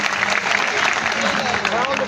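A crowd at a political rally in Mandla claps in a steady burst of applause to welcome a speaker, while a voice carries over the top.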